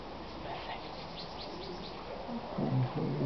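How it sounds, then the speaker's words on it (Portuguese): Small songbirds chirp faintly outdoors in a short, soft series of high calls, half lost in a steady background hiss, with a low thudding noise rising near the end. "Escuta os passarinhos."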